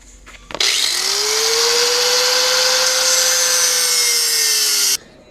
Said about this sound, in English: we're just gonna go ahead and cut her off with a 4-inch grinder wheel